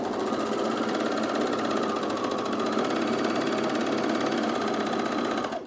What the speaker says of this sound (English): we're just going to overlock this edge here